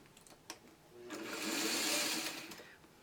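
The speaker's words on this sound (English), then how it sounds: "now I'm going to sew them together just like a 4-patch" Sewing machine stitching quilt patches together into a four-patch, a brief close whirring run that swells and fades over a few seconds after a small click.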